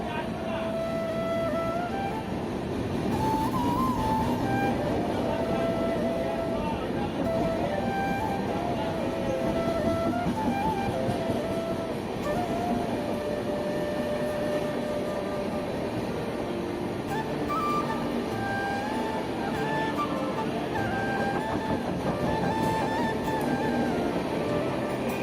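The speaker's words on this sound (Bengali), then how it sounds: "এটা আর একটা যাচ্ছে। এটা আবার সুপার ফাস্ট একটা ট্রেন।" A superfast train runs through a station platform with a steady, continuous rumble and rail noise lasting throughout, while people talk over it.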